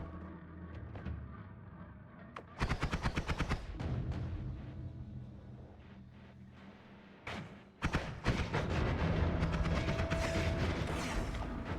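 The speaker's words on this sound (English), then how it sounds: "They're shooting their own Sawblades." Sawblades being fired in the video game Noita: after a few scattered clicks, dense rapid bursts of whirring, clattering impacts come in two loud stretches, the second one sustained to the end.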